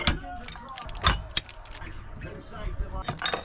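Maxwell anchor windlass being worked by hand on a sailboat, giving close, irregular mechanical clicks, creaks and clunks of ratcheting gears.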